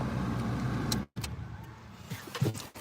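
A car engine idles with a low rumble, then cuts out abruptly into a brief silence, followed by faint clicks and small cabin handling sounds.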